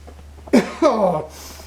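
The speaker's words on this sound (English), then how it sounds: "Excuse the coughing fit." A person coughs in a short fit, with two sharp, close bursts about a quarter second apart over a low steady hum.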